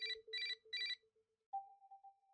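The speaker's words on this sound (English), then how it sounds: "His phone starts ringing almost immediately." A phone ringing in the visual novel Saya no Uta, heard as three quick electronic ring bursts over a low sustained tone, which then gives way to a single higher steady tone, clean and alone.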